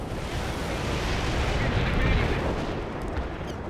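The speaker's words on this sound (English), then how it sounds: "Artillery strike is inbound." An artillery strike lands in World in Conflict, a heavy, continuous roar of booming blasts and rumbling explosions that fills the scene loudly for several seconds before easing slightly.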